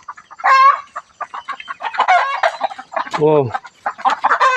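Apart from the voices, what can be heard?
chickens clucking and crowing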